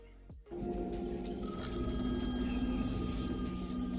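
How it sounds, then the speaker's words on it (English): A PlayStation 5 controller's built-in speaker rings during a video game, a steady electronic ringing tone with sustained harmonic pitches that starts abruptly and holds at an even level throughout. "Oh, the controller was ringing."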